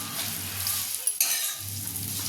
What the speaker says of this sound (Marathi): चांगल्या भाजून घ्यायच्या आहेत, अगदी मंद आचेवर